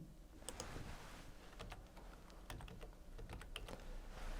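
Typing on a computer keyboard, a quiet irregular run of light key clicks close by with no talking.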